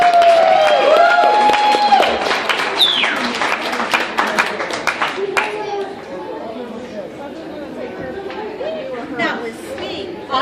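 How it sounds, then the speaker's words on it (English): An audience at a recovery festival ceremony gives a round of applause, scattered clapping and cheering mixed with loud crowd chatter and talking voices, thinning out toward the end. "So we can give Laurie a round of applause"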